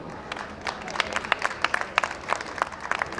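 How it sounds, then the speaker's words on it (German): Audience at a boat show applauding to welcome a moderator, a moderate, somewhat distant patter of many hands with sharper individual claps standing out. "Applaus bitte."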